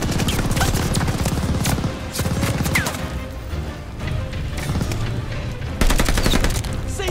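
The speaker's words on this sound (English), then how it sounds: "What are you guys shooting at?" Dense, continuous machine-gun fire in Call of Duty Vanguard, rapid bursts of shots layered over explosive crashes, loud and sustained with a sharper surge of firing near the end.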